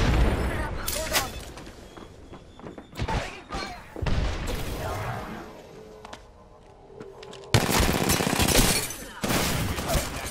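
In-game automatic gunfire from a Shogun rattles in bursts across a battle royale match, loud volleys broken by short pauses, with players talking over the shooting.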